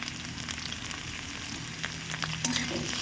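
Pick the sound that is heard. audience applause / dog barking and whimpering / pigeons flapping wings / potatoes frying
potatoes frying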